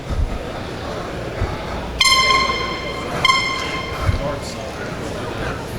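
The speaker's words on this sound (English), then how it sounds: "Someone has an air horn." An air horn at a LEGO convention's town and train hall blares twice in short bursts over a busy crowd murmur, people talking nearby.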